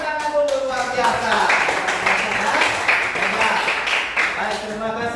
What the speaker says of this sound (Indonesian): Oke, tepuk tangan dulu, luar biasa.